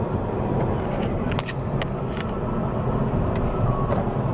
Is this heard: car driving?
yes